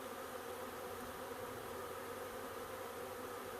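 Honey bees hum steadily around a swarm catch box at a known good-stock location, a faint, continuous buzzing drone with no talk.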